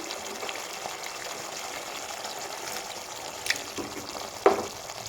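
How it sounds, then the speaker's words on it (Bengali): Whisked sour curd poured into spice masala frying for a vegetarian brinjal dish gives a soft, low sizzle broken near the end by a brief wet splat and hiss, close and fairly quiet. No one talks. "তো এখানে আমি কিছুটা টক দই দিব ফেটিয়ে রাখা টক দই"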